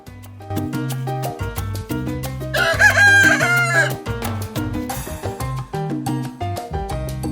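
A rooster crows loudly on Calle Ocho in Little Havana in the middle of a busy, rhythmic musical track with bass and percussion throughout.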